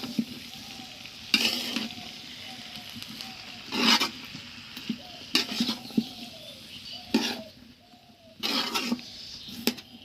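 Food frying in a pan at home, stirred in repeated scraping bursts over a steady soft sizzle, with faint clinks between strokes and no talking.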